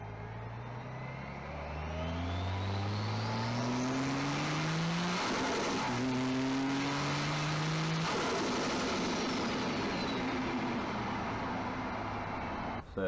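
A turbocharged Ford Barra-engined car accelerating hard, its engine note rising through several gears with a strong intake whoosh, loud and close.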